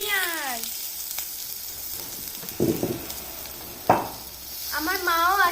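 Onions tipped into hot oil in a wok sizzle and crackle, with scattered clatters and scrapes and brief voice-like tonal sounds at the start and end.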